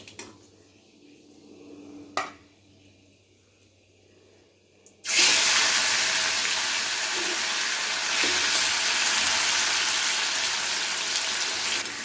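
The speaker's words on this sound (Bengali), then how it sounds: "টমেটোটাকে দিয়ে হালকা কিছুক্ষণ ভেজে নেব, নাড়াচাড়া করে ভেজে নেওয়ার পরে" Tomatoes dropped into hot oil with Bengali five-spice seeds in a pan for tomato chutney: a few quiet clinks, then a sudden loud, steady sizzle that continues close up to the end.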